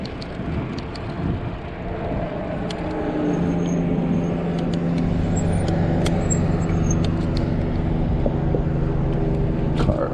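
A car passes on a road beside a bike trail in Columbus, Georgia, its low rumble swelling and holding steady under ongoing riding and wind noise.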